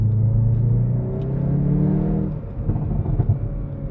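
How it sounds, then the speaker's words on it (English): A 2022 Hyundai i30 N hot hatch downshifting from inside the cabin, its exhaust giving a steady deep engine drone that breaks into loud, rough crackling burbles and pops toward the end. "I'll show you guys right now with the burbles that you get from the exhaust."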